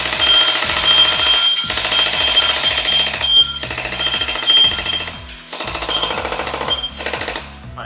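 An ARES HoneyBadger ver.2 electric airsoft gun with an electronic trigger fires loud, rapid full-auto bursts, several strings of shots separated by short pauses, very close and dominating, with no talking.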